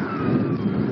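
Strong wind of about 40 to 55 km/h buffets a microphone during a paraglider flight after a 1000 m launch, a steady close roar of low rumble filling the brief moment without talking.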